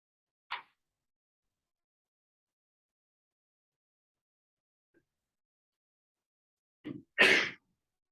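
A person gives a single sharp sneeze, preceded by a quick intake of breath, loud and close in an otherwise quiet room, with a faint sound earlier.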